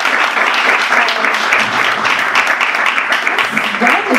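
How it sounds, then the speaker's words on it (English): Applause from an audience at a talk featuring Jenny Yang and Onnesha Roychoudhuri, steady dense clapping filling the whole stretch at close range, with a bit of crowd voice mixed underneath. "Let's give a round of applause for"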